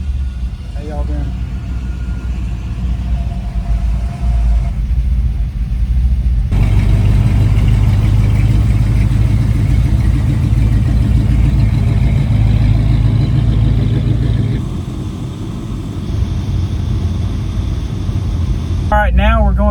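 A 1964 Chevrolet El Camino cruises along a rerouted road during a Route 66 car cruise, its engine a steady low rumble with road noise throughout, swelling slightly partway through, while people talk over it.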